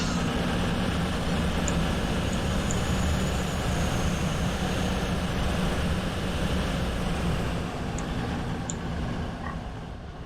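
Class 221 unit 221122 pulls out of Dundee station on a CrossCountry service to Penzance, a steady loud diesel drone and rumble that holds for several seconds then gradually fades as it moves away.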